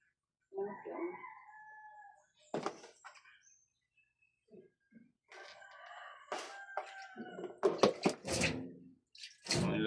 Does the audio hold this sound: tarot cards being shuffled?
no